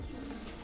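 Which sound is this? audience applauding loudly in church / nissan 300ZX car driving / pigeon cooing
pigeon cooing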